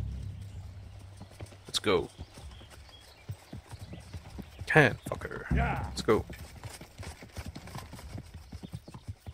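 Horse hooves clip-clop steadily in the medieval role-playing game Kingdom Come: Deliverance, close and moderately loud, with a brief whinny and someone talking over the riding.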